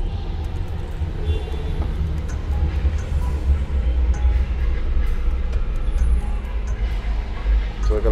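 KTM commuter train at a station, a continuous low rumble of rolling rail cars that swells and steadies, with faint bits of talk in the background.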